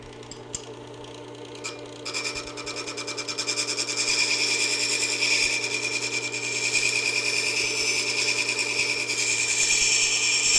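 The keel of a woodcarving V tool is ground during sharpening, heard as a few light scrapes followed by a steady, loud, close grinding hiss with a continuous motor hum underneath, and no talk.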